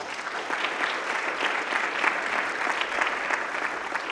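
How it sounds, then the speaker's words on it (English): Audience applause at an evening event on Rudolph Fisher and the Harlem Renaissance, continuous dense clapping from a seated crowd, steady and moderately loud throughout. "Please give them a round of applause."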